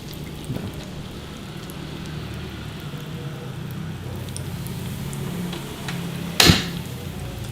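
Food fries in preheated hot oil over a low flame, a continuous soft sizzle and crackle with one louder hiss burst near the end.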